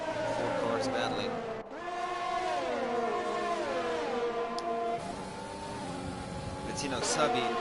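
Formula 1 race cars in a racing video game at the Austrian Grand Prix, several high-pitched engines whining and shifting together at close range, rising and falling as they fight for position.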